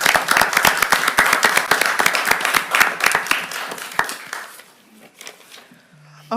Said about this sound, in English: Y'all, let's give another round of applause.